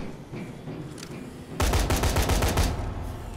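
A sudden loud burst of rapid automatic gunfire in the zombie game Dead Rising 3, roughly ten quick shots in steady rhythm after a quieter opening stretch, with no talk.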